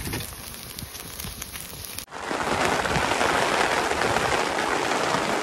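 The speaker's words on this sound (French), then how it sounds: "C'est chaud avec la pluie, c'est chaud avec la pluie." Heavy rain pours down in a thunderstorm, a steady dense hiss that starts abruptly after a brief quieter stretch, beating on surfaces close by and loud throughout, with no voices.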